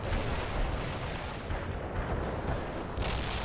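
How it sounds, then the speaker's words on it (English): An artillery barrage in the real-time strategy game World in Conflict: Soviet Assault, a loud, continuous rumble of overlapping blasts and booms that fills the whole stretch without pause. "Commencing the barrage. Artillery strike on the way."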